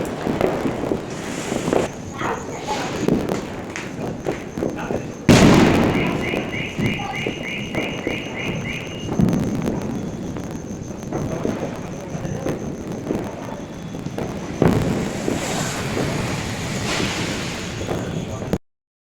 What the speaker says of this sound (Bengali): 12টা বাজি আর চারিদিকে কিন্তু বাজি ফাটছে।